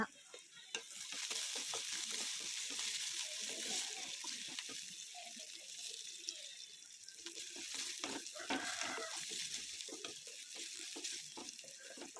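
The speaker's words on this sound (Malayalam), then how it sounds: "ഇഞ്ചി ഒന്ന് വറവാവോളം നമുക്ക് ഇളക്കി കൊടുക്കാം പിന്നെ കുറച്ച് ഉള്ളി കൂടി ഇട്ട് കൊടുക്കുക അത് നല്ലോണം വഴറ്റുക" Ginger and onion sautéing in a pan for a bilimbi puliinji, a soft continuous sizzle broken by repeated spatula scrapes and stirring taps, close but fairly quiet with no talking.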